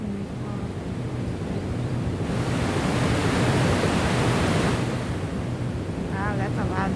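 A loud waterfall in the game Ghost on the Shore roars as a dense, steady rush of broadband noise that swells in the middle, with a brief voice near the end.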